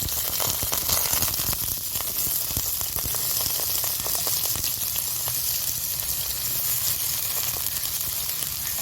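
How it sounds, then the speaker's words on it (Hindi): Potatoes frying in a tablespoon of oil in a pan, a steady close sizzle and hiss with faint crackles and occasional stirring taps, no one talking. "अब इसी पैन में 1 टेबलस्पून ऑयल में ये आलू डाल दीजिए"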